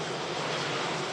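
Jet2 Boeing 757 taking off from runway 23L at Manchester Airport, a loud, continuous broadband engine roar that holds steady throughout, with no talk over it.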